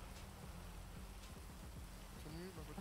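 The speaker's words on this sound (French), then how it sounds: "Non, il pleut." Steady rain falls outdoors, a continuous faint hiss with scattered drops, with low chatter and distant voices mixed in underneath.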